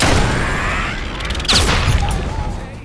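Gunfire in the video game Wanted, with a loud, dense burst of shots and impacts mixed into a busy game soundtrack, including a sharp crack midway.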